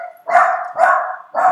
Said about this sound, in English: There are my wiener dogs.